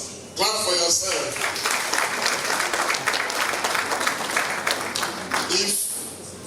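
Sustained applause from a large audience at a book launch, loud and dense throughout, starting abruptly and fading slightly toward the end, with some voices faintly mixed in.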